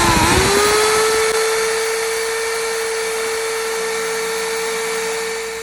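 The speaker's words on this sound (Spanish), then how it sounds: "se va a encender el taladro" An electric drill whirs at a steady high pitch after a brief spin-up, running continuously and loudly throughout.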